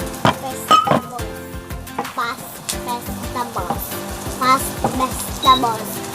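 Carrots and other vegetables fry in a pot for a no-bake one-pot lasagna, a close sizzle mixed with stirring scrapes and metallic clinks of utensil against the pot, uneven and busy throughout.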